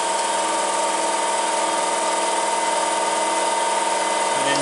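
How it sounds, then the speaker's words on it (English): A power tool runs steadily and loudly, close up, while removing bolts from a Ford 550 tractor loader backhoe during head removal, a dense continuous whine with no pauses and no voices. "I'm going to take these two bolts back out that I put in there to just hold it up."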